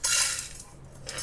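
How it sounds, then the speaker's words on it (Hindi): A metal spoon scrapes and clinks in a pan while edible gum is stirred into hot desi ghee. The sound is close and bright, with a brief scraping burst, a quieter pause, then another stroke. "100 ग्राम गोंद को देसी घी में कुछ इस तरह से हिलाते जाएंगे"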